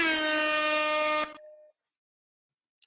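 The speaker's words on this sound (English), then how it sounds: "I do have an air horn." A loud, sustained air horn blast lasting over a second, then a brief fading tail and a tiny click near the end.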